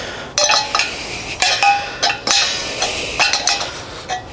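A wrench working a hexagonal nut on a gas connection gives off a series of sharp metallic clicks and clinks, about eight irregular hits close by with no talking.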